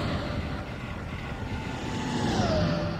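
An Amtrak Acela Express high-speed train in the Train Sim World 4 game rushes past on the Northeast Corridor near Boston, a steady loud roar and whoosh that rises slightly as it passes, with no talk.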